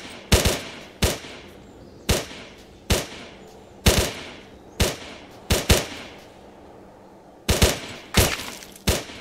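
Gunfire from a rifle in a tactical first-person video game shooter: about a dozen sharp, loud single shots spaced roughly a second apart, with a quick double shot near the end and no talking.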